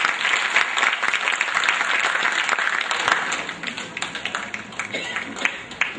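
Continuous, lively applause from an award ceremony crowd rolls on at an even level, dense crackling claps with voices mixed in underneath.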